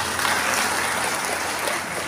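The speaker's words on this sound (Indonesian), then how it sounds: "Tepuk tangan untuk ayah." Sustained, dense applause from an audience at a regency development talk by the Kebumen district head, loud and steady throughout with no break, fading only slightly at the end.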